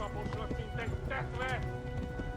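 Horse hooves clip-clopping at a gallop in the medieval video game Kingdom Come: Deliverance, a steady rapid beat under continuous spoken commentary and game sounds.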